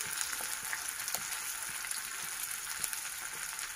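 Onions frying in a pan for mutton curry make a continuous hissing sizzle dotted with small crackles and pops. The sound is fairly close and steady, with no voices.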